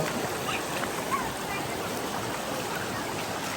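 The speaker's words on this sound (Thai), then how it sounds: "ดูน้ำตกเป็นน้ำตกนิดหนึ่งครับ" Water runs over rocks at a small waterfall in Surin province, a soft, continuous distant hiss of flowing water with no clear splashes, steady and faint throughout.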